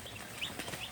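Farm chicks cheeping faintly, a quick run of high chirps over a soft noisy background in about a second.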